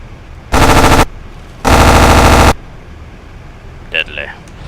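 B-25C bomber machine guns in the Aces High 2 flight game fire two long, loud, steady bursts, the second longer than the first, followed by brief faint game sounds.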